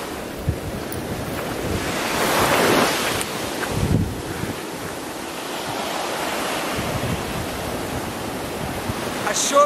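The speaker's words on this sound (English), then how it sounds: "you're met with this beautiful little surfing cove and some left-hand breaking waves" Left-hand breaking waves roll in at a small surfing cove on Ayoke Island in the Philippines, a steady near surf wash with gusts of wind buffeting the microphone.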